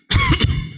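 Several people cough during a quiet meditation session, a burst of harsh overlapping coughs close by that fades out over about a second.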